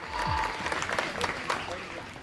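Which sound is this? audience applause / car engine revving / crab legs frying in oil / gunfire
audience applause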